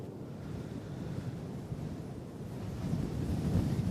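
Strong wind buffets a camera microphone at Christchurch Airport around sunset, making a steady low rumbling roar that swells louder toward the end, with no voices.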